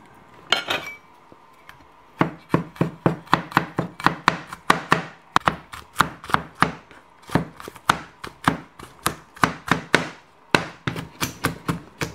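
A knife minces a whole garlic bulb on a cutting board in quick, rhythmic chops, sharp and close, in a steady series with a brief pause near the start.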